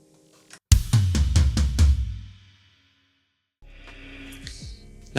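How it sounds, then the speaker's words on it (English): Drum kit triplet fill played on kick with ride, then rack tom and floor tom: a quick run of about six loud, close, evenly spaced hits over roughly a second, ringing out before silence, then a faint low hum. "starting on the kick and the ride, and then rack tom, and the rest on the floor tom"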